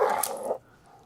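Dog barking in the TV show The Last of Us: a single short, fairly loud bark-like burst that quickly fades into quiet background.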